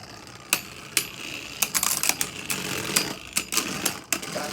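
Beyblade Burst spinning tops, including King Kerbeus, clash and scrape in a stadium battle: a dense, gritty whirring broken by sharp clacking hits at irregular intervals, close and fairly loud, with no talk.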